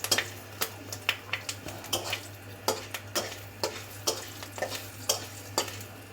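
Fenugreek seeds fry in a pan of hot oil with a soft steady sizzle, broken by a string of sharp clicks and scrapes from a stirring spoon at an uneven rhythm, close by and with no talking.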